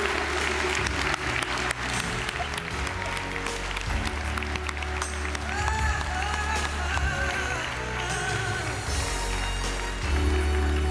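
Sustained applause fills a hall at an SLD European election convention as a professor and member of the European Parliament is welcomed to speak, a dense crowd clapping steadily and loudly throughout with faint cheers mixed in.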